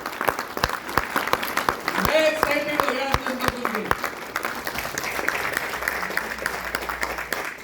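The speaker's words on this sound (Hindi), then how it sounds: "एक बार जोरदार तालियां इस काम के लिए।" An audience claps and applauds steadily throughout, with someone speaking over the applause.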